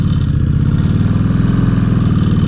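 A 2003 Kawasaki Vulcan VN1600 Classic in first gear, its big V-twin engine rumbling loud and steady with a throbbing low pulse, heard up close from the rider's seat with no talking.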